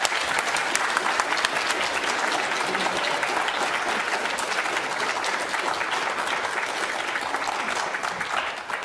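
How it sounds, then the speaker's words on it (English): A debate audience applauds in a lecture hall, a steady, dense wash of clapping that holds evenly for several seconds before easing slightly at the end. "Those people who think the against team won the debate, please clap."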